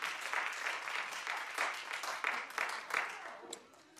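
An audience claps, a dense wash of many hands at steady volume that thins out near the end.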